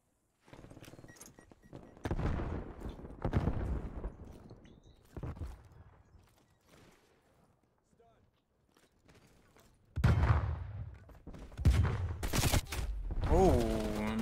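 Gunfire in the video game Call of Duty Cold War, with an AK47 in use: sharp bursts and single shots, some in rapid clusters, separated by quieter gaps. Someone talks over parts of the action.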